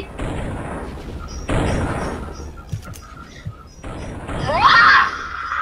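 Heavy bazooka booms and blasts go off in bursts amid KoGaMa game noise, with a loud, rising explosive roar near the end.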